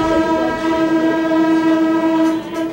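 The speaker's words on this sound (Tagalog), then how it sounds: "Todo busina pa ang makinista sa inspeksyon ng DOTC at PNR sa ginawang rehabilitasyon ng riles." A PNR locomotive horn blown by the engineer during a track rehabilitation inspection, one loud sustained blast lasting the whole moment, with rail rumble beneath.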